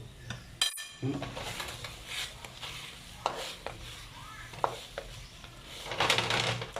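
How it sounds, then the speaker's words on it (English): Sesame chicken with sesame seeds stirred in a pan, scattered utensil scrapes and light clinks against the metal, with a sharper clatter early on and low background kitchen noise. "I'll just give that a little stir before I put the next lot in."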